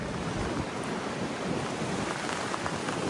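Steady, dense rain pours down without a break during a severe storm in the UK, a continuous hiss of drops on surfaces close by.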